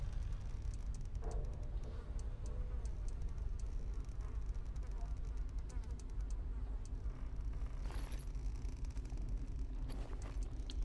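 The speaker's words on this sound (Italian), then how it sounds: "Mi davano fastidio le mosche, scusate." Flies buzzing in the Neverwinter video game, a faint steady insect drone running continuously beneath a low hum, with no speech.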